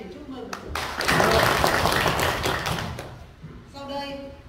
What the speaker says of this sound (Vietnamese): Đề nghị đại hội cho một tràng pháo tay để chúc mừng.